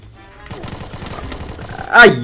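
Rapid bursts of gunfire from the battle royale game Free Fire rattle in a quick steady rhythm, ending in a louder, sharper blast.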